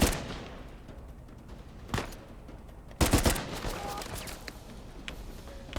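Weapon fire in a first-person shooter video game, heard as a few sharp isolated bursts spaced apart over quiet background game ambience.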